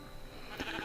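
Faint, short bleating from a sheep in the Minecraft Bedrock 1.17 video game, two quick soft calls near the end over a low hiss.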